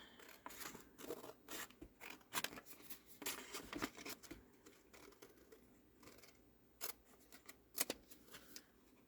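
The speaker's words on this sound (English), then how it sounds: "let me get my scissors because they're longer" Quiet, close snipping of long scissors cutting paper material for a junk journal, a series of irregular crisp snips and rustles with short pauses between cuts.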